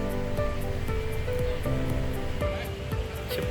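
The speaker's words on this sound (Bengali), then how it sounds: "সামনের নীল সমুদ্র, ঢেউয়ের মৃদু শব্দ" Surf at Pattaya Beach, Thailand, rolls in as a steady wash of breaking waves, with repeated swells cresting every second or so under a constant near roar and no talking.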